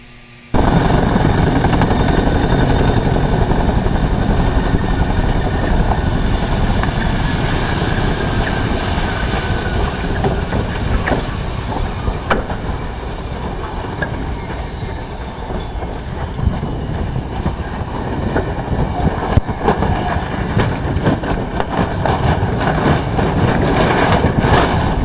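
A helicopter in a ground resonance test, its rotor and airframe roaring and shaking in a loud, dense, continuous rattle with rhythmic clattering throughout, close and unrelenting.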